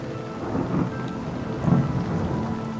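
A nighttime thunderstorm: steady rain patters on surfaces while low rumbles of thunder swell and fade, with no voices.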